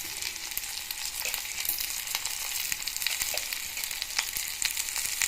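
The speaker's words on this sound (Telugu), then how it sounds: "ఉల్లిపాయలు వేసి దూరగా వేయించుకోవాలి" Onions sizzling in hot oil with mustard seeds for a curd rice tempering, a steady bright crackling fry heard up close, with occasional faint stirring, no voices.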